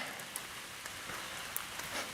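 Rain pattering steadily on a tent, a dense, even hiss with occasional sharper drops hitting the fabric nearby.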